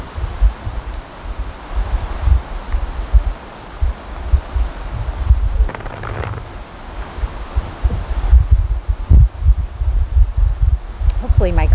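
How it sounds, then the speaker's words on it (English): Wind blows outdoors in gusts, buffeting the microphone with a steady low roar and some rustling. "It's a little bit windy out here too."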